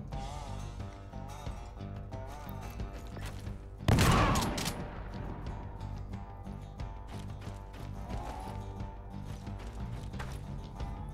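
A single shotgun blast goes off in the turn-based strategy game Skyshine's Bedlam, a sharp loud crack over a steady game music backdrop that continues throughout.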